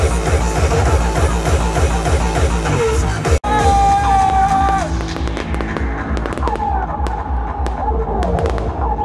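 Fireworks at the closing show of an air force festival: dense, continuous bursts and crackling explosions with loud booms, alongside yelling and whooping from a crowd.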